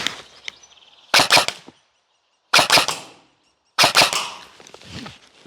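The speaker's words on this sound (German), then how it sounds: "Du wolltest jetzt genau schießen" A Cyma Nova Begadi Gen5 airsoft gun fires three loud, close bursts of rapid shots separated by short silences, with faint clicks before the first burst.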